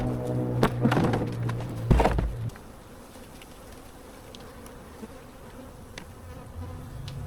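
Honeybees buzzing around an opened hive during an inspection while a new queen is being introduced, a steady insect drone with louder close passes in the first two seconds, then a fainter hum.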